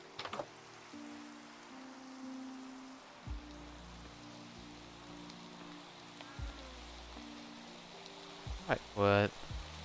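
Steady rain patters in the Minecraft game world, a faint continuous hiss under low droning tones, with a brief sharper sound near the end.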